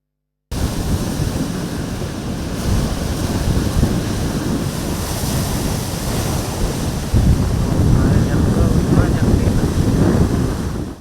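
Sea waves crash and wash against a tetrapod sea wall on the Chellanam coast in Kerala, a continuous loud roaring surf with heavy wind buffeting the microphone, swelling stronger in the second half.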